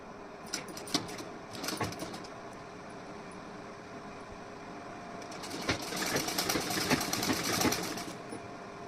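A sewing machine stitches fabric for a decorative neckline, giving faint rapid mechanical whirring in two short bursts, then a longer run of stitching toward the end, with no voices.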